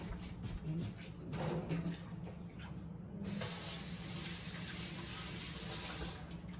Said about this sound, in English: Now, I'm gonna wash my hands.